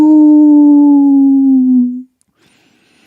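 A person imitates a dog howl with one loud, sustained tonal howl that slowly falls in pitch for about two seconds, then cuts to near silence with a faint click at the end.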